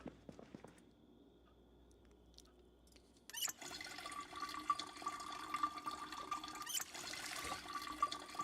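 Water drawn from a tap in Project Zomboid: after a few faint clicks and a quiet pause, a steady hissing stream of running water starts abruptly and keeps flowing with a brief click partway through.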